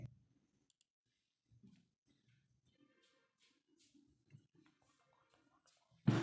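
A single sharp computer mouse click on a Next button on a birth certificate application web form, short and close, at the end of a quiet stretch with faint murmurs and small noises.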